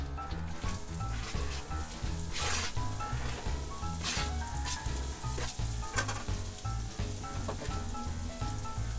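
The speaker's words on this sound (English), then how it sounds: "ready to sweat the onions," Onions sweating and sautéing in a pan in an RV kitchen give a steady, close sizzle with occasional stirring scrapes, running continuously without talk over a rhythmic musical background.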